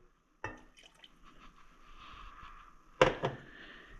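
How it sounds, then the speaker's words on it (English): Water is poured into a pot of sugar for pine nut brittle, a soft splashing trickle between two sharper clinks at the start and end, close and quiet in a hushed kitchen. "I'm going to add our sugar to our pot, and then our water"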